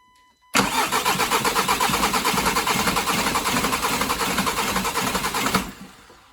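An Audi diesel engine cranks on its starter with a fast, even, loud whirring chug for about five seconds, then falls quiet.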